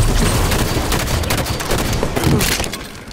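Dense video game gunfire, rapid overlapping shots and booms filling the whole stretch at high loudness with little pause.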